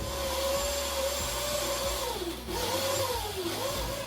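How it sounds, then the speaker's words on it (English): A kitchen blender runs continuously, blending egusi soup ingredients with added liquid, a steady loud motor whine whose pitch dips and rises as the load shifts, with no talking. "I'm going to transfer this to my blender area and have it all blended up."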